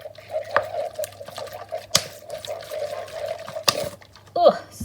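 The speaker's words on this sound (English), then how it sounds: "take a bowl and some white vinegar, and I'm going to pour it just a little bit into the bowl" White vinegar poured in a small amount into a bowl, a light liquid trickle with a few brief clinks and handling sounds, while a voice speaks over it.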